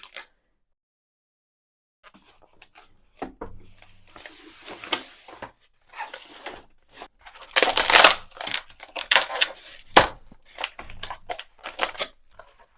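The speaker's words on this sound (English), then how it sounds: "so let's just peel this all off." Protective film being peeled off Carverall A1 Pro laser cutting material, heard as close, irregular crinkling and tearing bursts that start after about two seconds of silence and grow louder toward the end.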